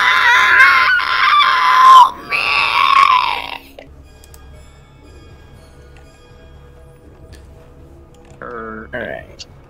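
A human voice imitates a cursed puppet screaming, a harsh, strained, high shriek lasting a few seconds with a brief break, followed by quiet and then a short wavering vocal sound near the end.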